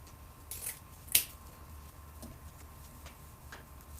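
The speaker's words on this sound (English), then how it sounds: "scrunch and cut the tails to match" Scissors cutting ribbon tails for a layered bow, a couple of faint close snips with one sharper click, then quiet small handling ticks.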